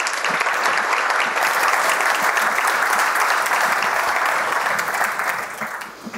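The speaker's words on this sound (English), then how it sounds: "Please give a big round of applause to Dr." Conference audience applauding a speaker's introduction, a loud, dense burst of many hands clapping that holds steady before tapering off at the end.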